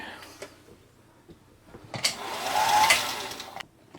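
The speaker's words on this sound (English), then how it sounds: "power back in and turn it on, we should have a machine that's behaving itself again" A Singer 222K Featherweight sewing machine running after servicing, a brief whirring motor burst of about a second and a half that rises and fades, following quieter handling noises nearby.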